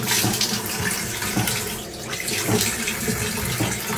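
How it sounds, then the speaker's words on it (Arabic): Water runs steadily from an opened sink tap, a continuous close splashing hiss with small fluctuations as hands fill with water, no talking. "بتفتح الحنفية، تملى ايدك كلها مية"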